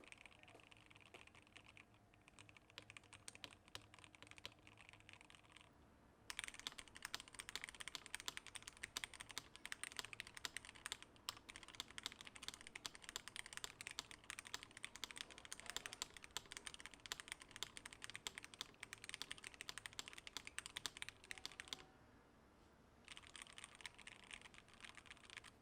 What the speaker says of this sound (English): here is my very first reaction to the finally finished keyboard and a little sound